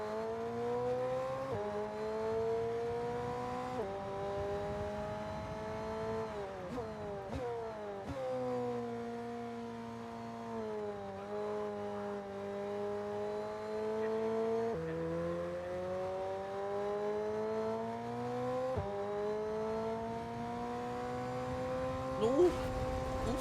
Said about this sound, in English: Now we are racing in the McLaren.